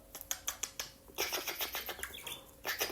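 A pet budgerigar mimicking sounds: a run of sharp clicks, then a burst of scratchy chattering and warbling calls, close and fairly loud.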